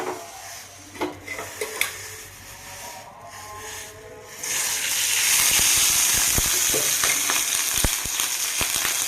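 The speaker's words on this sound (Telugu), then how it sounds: "స్టవ్ వెలిగించి గిన్నె ఎత్తానండి ఆయిల్ వేసుకుందాం" Oil heating in a pan on a lit gas stove: a few seconds of light clatter and handling, then a loud, steady sizzle and hiss with scattered crackles.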